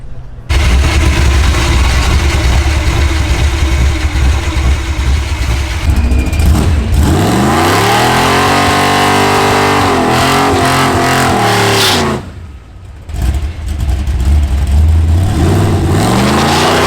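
A big-block Chevy C10 engine runs loud and close while its ignition timing is being set. It idles roughly, then rises through sustained revs with a brief dip near the end before picking back up.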